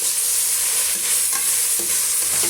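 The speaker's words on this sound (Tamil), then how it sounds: "இப்போ இது கூடவே கட் பண்ணி வச்சுருக்க புதினா இலையும் கொத்தமல்லி இலையும் சேர்த்துக்கலாங்க. இப்போ நல்லா வதக்கி விட்டுக்கலாம்." Mint and coriander leaves sauté in a pan for a vegetable salna, a steady sizzle with a few scraping stirs of the spoon, close and continuous with no talking.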